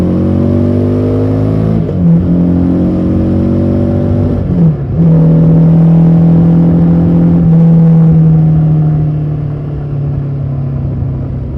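A Harley Davidson Street 750 motorcycle exhaust rumbles loudly and close as the bike accelerates, rising in pitch through several gear changes with brief dips between shifts, then easing off at the end.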